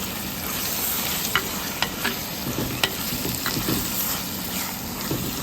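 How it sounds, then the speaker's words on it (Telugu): Tomato stirred into ginger-garlic paste frying in a pan for a dry prawn and brinjal curry: a steady, close sizzle with scattered scraping stirring strokes throughout. "ఇప్పుడు ఇందులో టమాటా వేసుకుందాం. టమాటా వేసి కూడా బాగా కలుపుకోవాలి."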